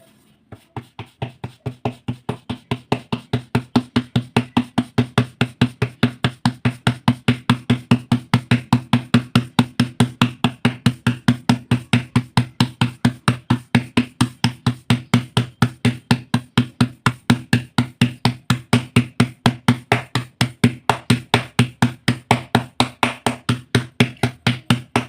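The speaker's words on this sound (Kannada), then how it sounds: "ಇವಾಗ ಇನ್ನೊಂದು ರೊಟ್ಟಿ ಕೂಡ ತಟ್ಕೊತಾ ಇದ್ದೀನಿ" Jowar (sorghum) roti dough being patted flat by hand, a steady, even run of close, soft slaps that keeps going for the whole stretch with no talking.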